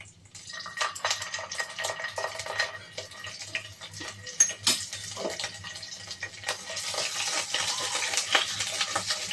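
Ginger paste frying in a pan, a low crackling sizzle with scattered scraping stir strokes, close and moderately quiet, growing busier toward the end.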